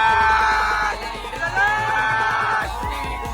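A loud, excited crowd at a Govinda human-pyramid practice in Wada cheers and yells continuously, voices blending into a dense roar with rising whoops.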